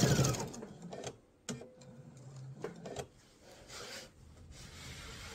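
A sewing machine stitches back over a previously sewn bottom line on a mesh tote, making a low, uneven whirring and rubbing sound broken by a few sharp knocks, fairly faint throughout.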